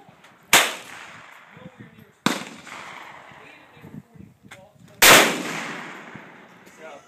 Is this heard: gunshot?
yes